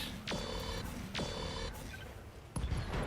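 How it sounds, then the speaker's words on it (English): Ammo explosion in the Battletech mech combat game: three sharp, loud blasts at roughly one-second intervals, each with a bright metallic ring that fades over a steady rumbling game background. "Ammo explosion."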